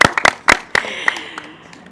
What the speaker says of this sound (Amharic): ትዝዬ በትክክል መልሷል። አጨብጭቡላቸው።